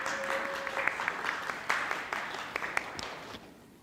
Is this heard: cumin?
no